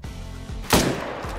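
A single loud rifle shot aimed at a fallow deer in a hunting video game, one sharp crack with a short decaying tail over steady low ambient background.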